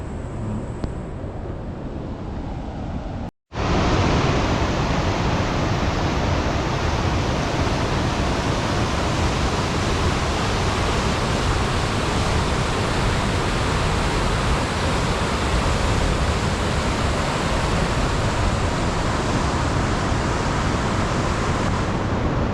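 Water rushing over Bustos Dam as a loud, dense, continuous roar of heavy flow, steady throughout after a brief cut near the start, with no other sounds standing out.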